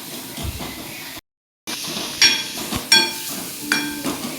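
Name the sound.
egg shev bhaji masala being sautéed in pan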